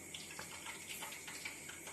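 About a spoonful of water is sprinkled onto pakoda batter seasoned with coriander leaves and salt, a soft, faint, continuous patter and trickle heard close up without talking.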